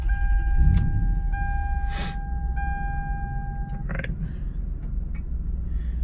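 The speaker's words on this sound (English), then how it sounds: "So what you want to do first is start the car" A Lexus LX470 engine idles steadily up close after a start, with a low, constant rumble and a few short electronic warning chimes early on.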